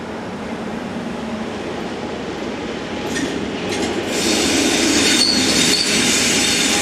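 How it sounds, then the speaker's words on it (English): A BLS electric twin-unit train departs from Spiez station, a steady rolling rumble that grows slightly louder, with brief high wheel squeals toward the end; no talking. "BLS twin unit number 535753 departs with the 1007 to Zweisimmen"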